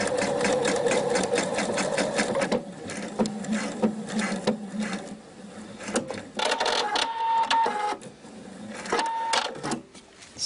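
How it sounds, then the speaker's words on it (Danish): Sewing machine running a straight stitch through elastic for a skirt, a fast steady mechanical whirr with brief pauses and restarts, close and loud with no talking. "Og syr ned igennem her med en lige ud søm."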